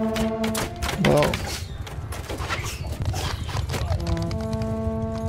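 Horse hooves in Bannerlord, rapid clip-clop of galloping amid battle noise, clashing and a tonal game sound, with a voice talking over it.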